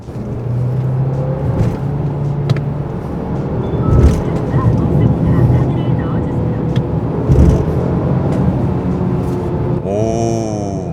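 A Mercedes-Benz E300e hybrid engine hums and builds under acceleration in Sport Plus mode around a curve, heard from inside the cabin, with someone talking over it throughout.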